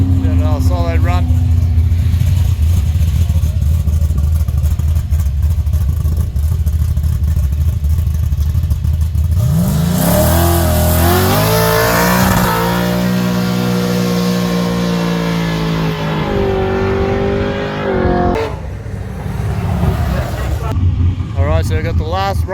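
Drag racing car on a solo run at a no-prep event, its engine rising in a loud, rough acceleration roar about halfway through after a steady idling rumble, close by and harsh, fading out near the end.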